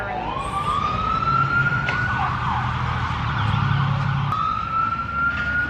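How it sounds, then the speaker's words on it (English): A siren wails nearby, its pitch rising and holding in long sweeps over a low rumble of traffic, loud and continuous. "sirens"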